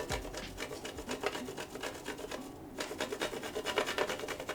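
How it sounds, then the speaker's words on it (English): A bar of chocolate is rubbed against a grater over a dish, giving a steady run of close, dry rasping strokes in a quick, even rhythm with a brief pause partway through. "You just sort of take the chocolate and you sort of grate it."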